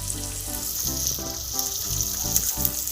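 Shallots and green chilies sizzle steadily in hot oil in a pan as the base for an anchovy fish curry, with a continuous crackling hiss and occasional soft stirring clinks.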